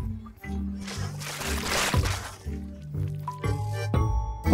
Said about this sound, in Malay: Mungkin saya patut tuang sahaja semua ini ke atas kuali?